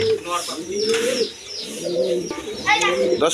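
Pet pigeons in a breeder's loft give several rolling coos, close and fairly loud, with chirps from other birds and a person talking between the calls.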